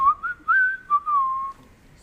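A single person whistles a short, wavering tune up close, a few brief notes followed by a longer sliding one, then silence.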